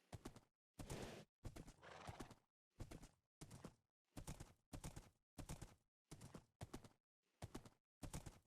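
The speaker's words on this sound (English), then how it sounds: "with this horse I might just be able to go about rescuing Toothy Philly" Minecraft horse hooves clip-clop in a steady series of distinct clomps, with a whinnying neigh mixed in, loud and close with no talking.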